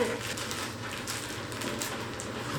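Rain falls in a steady, soft hiss that stays even and fairly faint throughout, with no one speaking.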